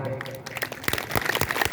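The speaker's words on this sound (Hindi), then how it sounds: "जोरदार तालियों से स्वागत होना चाहिए" Audience applause at a Ram Katha religious discourse in Hindi, quiet at first and then swelling into dense, fairly loud clapping for the second half, with voices mixed in.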